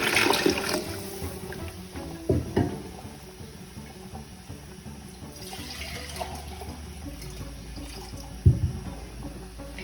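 Water added to a pot of beef yakhni pulao in a home kitchen, a soft continuous pouring rush with a few clunks of the container, moderately quiet and close.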